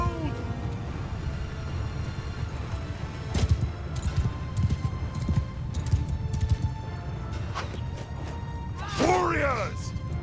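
Horses in the medieval battle game Mount & Blade II Bannerlord trample along in a busy clatter of hooves and thuds, under a commander shouting orders, with a brief horse whinny near the end.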